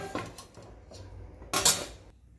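A metal lid is set onto a cooking pot on a home gas stove, giving a short clatter and clink of metal near the end after softer kitchen handling sounds, with no talk.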